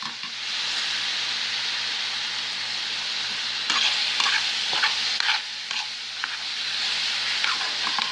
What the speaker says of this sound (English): So give that a good stir